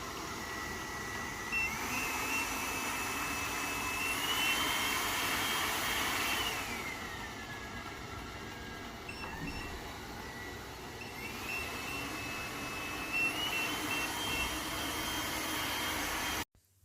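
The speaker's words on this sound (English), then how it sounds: "This is more of a basic robot vacuum, but you actually have two cleaning modes." A Lefant F1 robot vacuum cleaner running nearby, a steady whirring motor hum with a high whine that rises and falls in pitch as it moves about.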